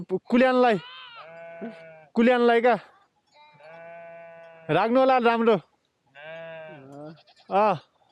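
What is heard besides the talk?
sheep and goats bleating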